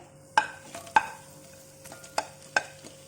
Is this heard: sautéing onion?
yes